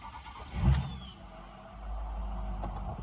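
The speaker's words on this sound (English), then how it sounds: "I'm gonna see if it'll start back up" A diesel tow truck fitted with new injectors cranks briefly, then catches and settles into a steady low idle rumble, heard fairly close with no speech.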